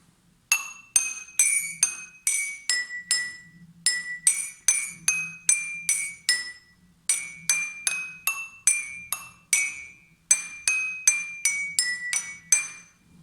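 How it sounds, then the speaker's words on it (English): Quick tapping on water-filled glasses rings out in bright clinking notes of different pitches, struck in rhythmic runs with short pauses between phrases. "depending on the amount of water that is in the glass, there will be a different sound"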